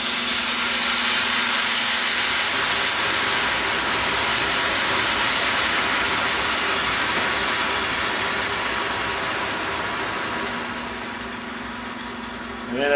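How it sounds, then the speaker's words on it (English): Sherry vinegar hits a hot pan of caramelized cipollini onions with a loud, steady steaming hiss that fills the clip and fades slightly toward the end, with no talking. "So next comes a little sherry vinegar."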